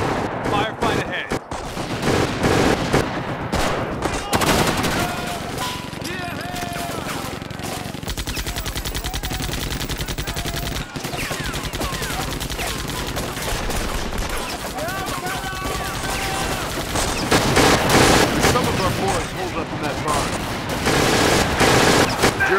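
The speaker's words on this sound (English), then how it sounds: "Squad, listen up. Firefight ahead." Gunfire in a firefight from the video game Company of Heroes: dense rifle and machine-gun bursts, some near and sharp, others distant, run continuously, with shouted voices mixed in.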